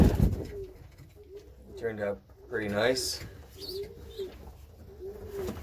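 Racing pigeons coo softly in a loft, low rolling calls repeating throughout while someone talks over them nearby.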